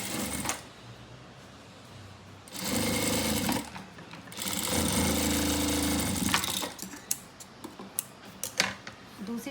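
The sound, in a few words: sewing machine stitching a salwar belt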